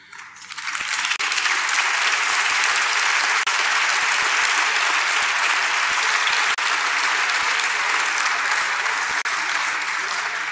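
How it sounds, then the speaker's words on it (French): Sustained applause from a conference audience, loud and dense with steady clapping throughout after a brief softer start, with no talk over it. "maintenant que vous avez applaudi"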